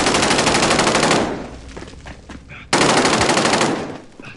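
Bursts of rapid automatic gunfire in a Call of Duty match, a sustained loud volley followed by a brief lull with scattered shots, then a second long burst.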